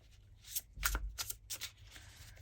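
Tarot cards being shuffled in quick papery riffles and soft bursts, close by, with a faint low hum underneath.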